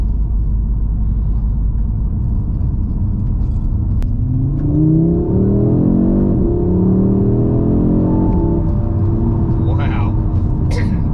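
A 2022 Audi RS3 in sport mode accelerating hard from inside the cabin, engine note climbing through rising gear sweeps with a brief shift drop, a steady road rumble underneath, and faint voices present.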